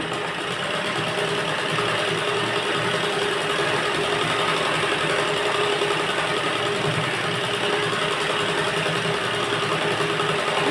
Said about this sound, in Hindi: देखिए ऊपर से एक सिलाई और लगाएंगे इसको